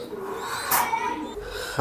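Racing pigeons in a loft give soft, low cooing, with a brief rustle partway through; the calls are close and fairly quiet.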